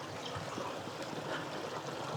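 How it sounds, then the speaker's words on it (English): Water rushing over boulders through a cold mountain canyon, a steady close-up wash of flowing stream noise that holds at an even level throughout, with no voices. "All this water is pushing cold air with it from being in this canyon."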